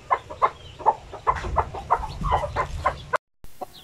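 Newly hatched pure Basilan chicks cheep in quick, regular bright peeps, close and clear, about three per second with a low background rumble.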